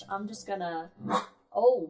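A small dog gives a few short barks and yips in the background while someone talks over them indoors.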